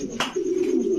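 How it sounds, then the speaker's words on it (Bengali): A male Siraji pigeon gives a low, steady coo lasting about a second, close and fairly clear, with a brief rustle near the start. "ভাই এটা হচ্ছে সিরাজি নর কবুতর।"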